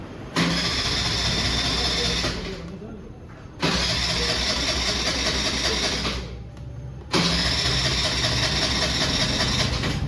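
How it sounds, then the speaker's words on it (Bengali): TVS Jupiter scooter with a starting and misfiring fault is cranked by its electric starter in three long, loud bursts separated by short pauses, each attempt whirring steadily close by without the engine catching. "এবার গাড়িটাকে আমি স্টার্ট করব।"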